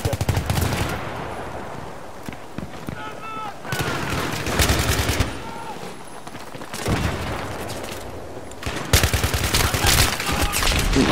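Rapid automatic gunfire in the video game Battlefield 3 comes in several loud, dense bursts separated by quieter stretches of game noise, with one burst trailing into an echoing tail.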